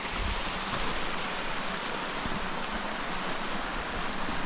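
Meltwater streams run across the Glacier Blanc on a mountain hike, a steady, full rushing and gurgling of water that stays close and even throughout, with no voices.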